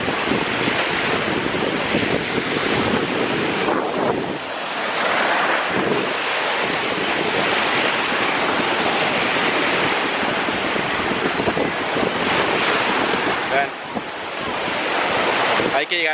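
Sea waves and wind roar continuously on a Miami beach, a dense, loud wash of surf with gusting wind buffeting the microphone throughout and only brief dips in intensity.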